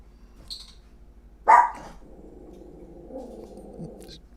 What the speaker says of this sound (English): and that's a little dog.